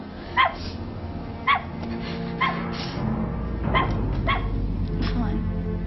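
A dog in a 1992 thriller film barks in several sharp, separate bursts spaced across the scene, set against a steady low background bed of score and room tone.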